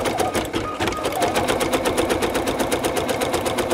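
An embroidery machine runs stabilization stitching on a cutwork coaster, a loud, fast, steady rattling hammer of needle strokes without pause.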